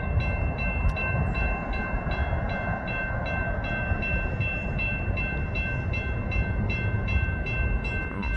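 An eastbound freight train rolls steadily past at close range, a continuous heavy rumble of wheels on rail with regular clicking from passing cars and a sustained tone throughout.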